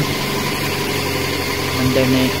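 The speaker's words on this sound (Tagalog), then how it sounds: "Umandar na yung ating makina, nasa mga 44 psi." A car engine idles steadily and fairly loudly at close range during a fuel pressure check, with a continuous low rumble and no breaks.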